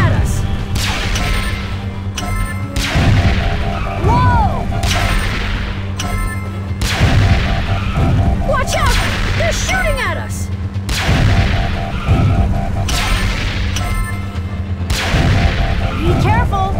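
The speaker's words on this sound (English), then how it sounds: "They're shooting at us!" Repeated bursts of shooting and booming explosions fill a Transformers Rescue Bots: Hero Adventures game, loud and dense in recurring waves over music-like tones and character voices.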